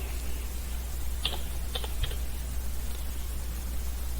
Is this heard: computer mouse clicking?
yes